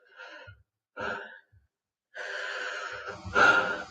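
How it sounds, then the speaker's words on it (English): Several breaths drawn in and out through a face mask with an adjustable metal nose piece and a close seal, the early breaths short and soft, the last ones longer and louder with a faint whistle of air near the end. "And when I breathe in and out,"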